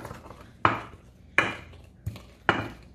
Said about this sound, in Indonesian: Sekarang kita ulek ya.